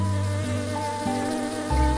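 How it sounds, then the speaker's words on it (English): A single bee, a cartoon storybook insect, buzzes loudly and close in a continuous droning whine whose pitch steps up and down as it flies off, alone with no speech. "The angry bee flew away."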